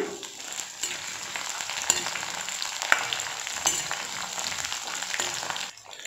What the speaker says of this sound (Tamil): இஞ்சி பூண்டு ரெண்டுமே எண்ணெயில் நல்லா ரோஸ்ட் ஆகணும்